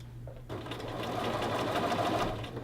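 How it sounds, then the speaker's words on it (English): A sewing machine stitches a men's shirt collar band to its facing, starting after a short pause and then running in a steady, close, fairly loud whir of rapid needle strokes. "I can sew at 5/8 and it will just stay right there aligned"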